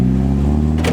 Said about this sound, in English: the best part about a turbo is the noises it comes with